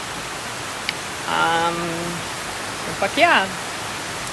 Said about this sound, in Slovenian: Sonček pa kar naenkrat ful dežuje.